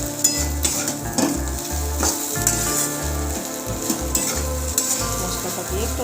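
Okra being stirred as it fries with spices in a pan, a steady loud sizzle broken by repeated scraping strokes of the spoon in an even rhythm, close by, with no voices.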